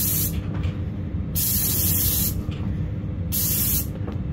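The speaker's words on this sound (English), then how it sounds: "so this is an airless sprayer. It's the 595. We're spraying at about, well, we will be at about 1600 PSI because it's quite cold" Airless paint sprayer, model 595 with a 310 tip, spraying paint at high pressure in cold conditions: a loud, steady hissing spray in two long bursts separated by brief pauses.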